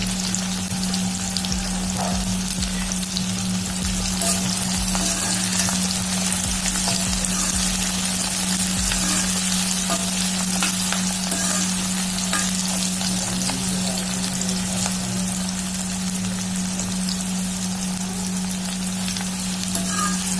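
Chopped onions with green chillies fry steadily in oil for a mutton curry, browning under a continuous, close sizzle with occasional stirring scrapes and no talk.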